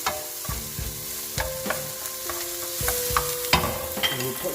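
Onions sizzle in a pan while a utensil stirs and knocks against it in repeated clattering strokes over a constant frying hiss; no talking.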